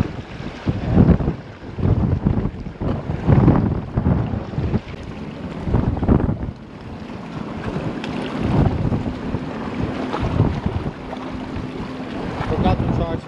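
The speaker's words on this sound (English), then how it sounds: "Man, this wind is terrible." Strong gusts buffet the microphone while fishing for mangrove snapper from a boat, a loud, rumbling roar that rises and falls throughout, with someone talking at times over it.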